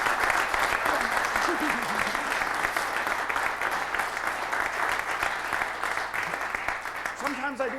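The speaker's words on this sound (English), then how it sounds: "now I think you deserve the warm round of applause for a job well done." Warm round of audience applause after a card magic trick, continuous clapping throughout with a few voices rising through it near the end.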